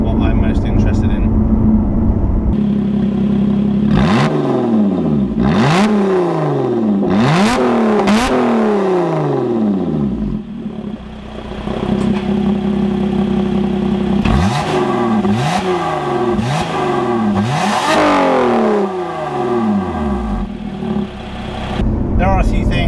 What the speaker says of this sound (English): the sound of the exhaust is what I'm most interested in